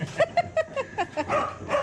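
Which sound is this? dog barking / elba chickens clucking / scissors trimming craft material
dog barking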